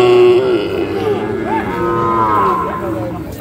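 Sahiwal breed calves and cattle at a busy village livestock market give a loud, drawn-out moo, close and dominant over the low crowd murmur.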